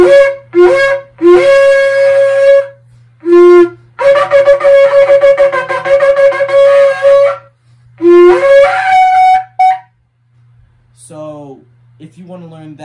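A shofar is blown in a series of blasts, short bursts and then long sustained, wavering horn tones with a loud, steady brassy pitch. A brief bit of speech follows near the end.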